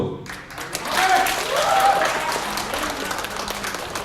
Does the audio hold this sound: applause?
yes